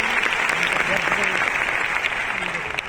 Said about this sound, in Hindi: थैंक यू सर के लिए जोरदार ताली दोस्तों